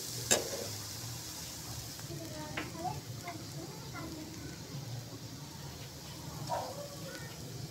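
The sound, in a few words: dried red chillies and garlic sizzling in hot oil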